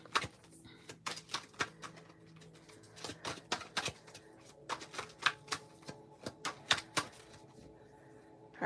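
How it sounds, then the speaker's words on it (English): Tarot cards being shuffled by hand, a series of crisp flicking riffles and taps in irregular bursts, close and fairly quiet against a soft background. "Let's do one more shuffle"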